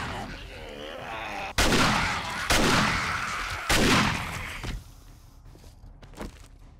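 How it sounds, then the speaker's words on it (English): Shotgun fire in the zombie survival game 7 Days to Die: three loud, booming blasts about a second apart, each followed by a short decay, then a quieter stretch with faint footsteps and thuds. "that's what we have shotguns for."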